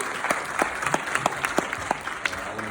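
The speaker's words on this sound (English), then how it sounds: "give you a round of applause" An audience applauds a student representative from CSI at a tuition-free college speech event, with moderate, uneven clapping and distinct individual claps standing out, neither thin nor thunderous.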